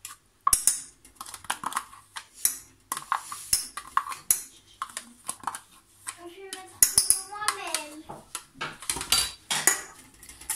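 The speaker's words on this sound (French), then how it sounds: "Vous battez bien le yaourt et vous le mettez au dernier moment" Yogurt is whisked in a bowl for a chocolate flan, with sharp clinks and scrapes of utensil on dish in irregular bursts, while an adult and someone talk nearby in a home kitchen.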